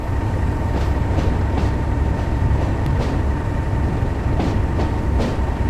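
A freight train rumbles steadily along the track in Train Sim World 4, with a constant low roar and periodic soft clicks and clacks from the wheels passing over rail joints.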